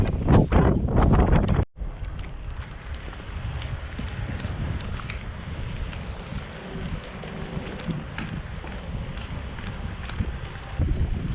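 Strong wind gusting across a microphone aboard a boat during a storm, a loud continuous rushing roar with buffeting low rumble that briefly drops out near the start, then persists steadily throughout.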